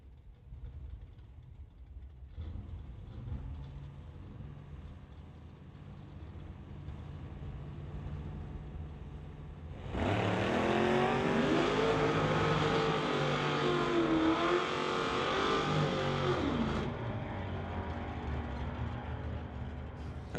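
Drag race between a Mustang and a GMC pickup: a low engine rumble and crowd-ambience bed, then a loud, close roar of engines accelerating hard with rising pitch for about seven seconds before fading back to a steady background drone.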